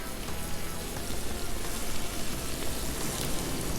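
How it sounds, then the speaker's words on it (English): Butter sizzles on a hot griddle, giving a dense, even crackling hiss that carries on steadily at moderate loudness, with no talking. "Let's get some butter going right over here."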